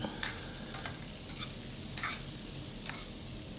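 Carrots, garlic and onion stir-fry in a pan for a chopsuey, a steady close sizzle broken by several scraping stirs of a utensil, with no talking.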